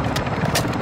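Helicopter rotor and engine roar from the Call of Duty Modern Warfare 3 zombie mode on PS5, a loud, steady whirring drone with pulsing blade chop throughout.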